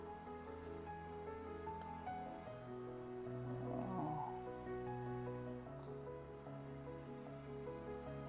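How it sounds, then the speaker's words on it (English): Half a glass of water poured into cocopeat in a home gardening kit, a soft brief splashing trickle in the middle of the clip, faint beneath steady background music. "I'll just pour it into the cocopeat"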